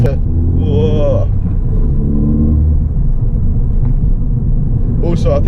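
A Ford Fiesta ST with a manual gearbox accelerates hard on the road, its engine rumbling loudly and building in pitch from inside the car, with voices talking over it.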